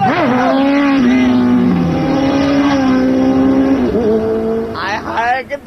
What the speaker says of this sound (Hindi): हाय कितना ट्रैफिक है।